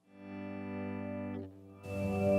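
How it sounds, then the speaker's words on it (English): An electric guitar with heavy reverb fades in as a smooth, sustained pad and holds it, dips briefly, then a fresh strum blooms into a wide, washy reverb tail. "I want this reverb sound kicking in right away"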